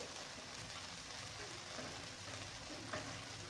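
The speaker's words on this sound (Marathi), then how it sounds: "चांगला मसाला आपल्याला तेल सोडेपर्यंत मसाला चांगला परतून घ्यायचा आहे आपल्याला" Homemade spice masala frying in oil for an aloo matar curry, a soft continuous sizzle and crackle that stays faint and even, with no voice over it.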